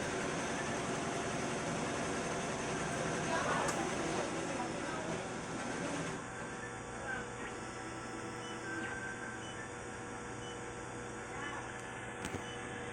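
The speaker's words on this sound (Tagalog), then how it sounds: "i-on ko po yung printer" A 60 cm DTF printer powers on and hums and whirs steadily, close by, with a faint click near the end.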